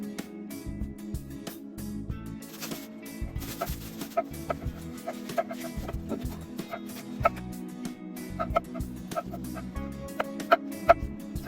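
Chickens cluck softly and steadily in the background on a farm with ducks, with occasional sharper clucks and a low hum underneath, at moderate distance.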